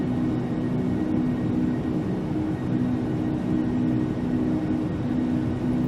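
Jet engines of an L-1011 TriStar in the FSX flight simulator roar steadily during the takeoff roll, a constant broadband rumble with a low hum, at moderate level and without speech.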